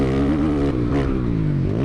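A 450 dirt bike engine runs continuously while being ridden, a steady loud motor drone with slight shifts in pitch and no talk over it.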